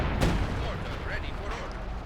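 Artillery shelling pounds a base in Company of Heroes 2 during a 2v2 match, a heavy blast near the start followed by continuous rumbling battle noise and scattered impacts, with a voice talking over it.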